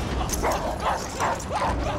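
Dogs in a Transformers movie scene give repeated yips and barks with some whimpering, moderately loud over a noisy background.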